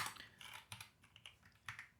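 Soft irregular keystrokes on a computer keyboard while entering a server configuration, a few scattered clicks with brief pauses, fairly faint and close.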